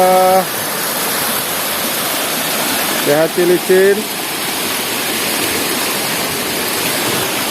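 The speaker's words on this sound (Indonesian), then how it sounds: "Wah, itu dia air terjun yang besarnya." Steady roaring rush of falling water from a large waterfall, Air Terjun Kalong in Pagar Dewa, West Lampung, fills the scene, with a brief spoken voice cutting through partway.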